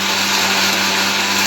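Mixer grinder running at full speed, grinding ingredients for vada pav finely: a loud, steady, continuous whirring roar close by, without any voices.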